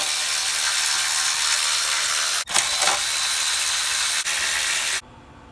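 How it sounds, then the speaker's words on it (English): A ratchet with an 8mm socket works off the ignition coil bolts on a Ford 6.2 engine, giving a loud continuous whirring buzz, briefly broken twice, that stops near the end. "Starting with an 8mm socket, we're just going to remove all 4 bolts holding on each coil."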